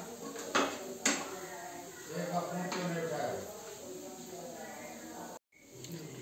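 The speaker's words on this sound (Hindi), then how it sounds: "और इसे हम धीरे धीरे करके चलाते रहेंगे और बिल्कुल लो फ्लेम पे इसे हमें भूनना है।" Leftover roti mixture stirred and roasted in a pan on a low flame: two crisp clanks of a spoon against metal, then a soft, steady scraping hiss with a person talking over it.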